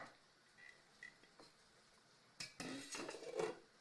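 Metal bakeware clanks and scrapes in a kitchen as a pan is pulled out for proofing bread, a few light taps first, then a louder rattling clatter.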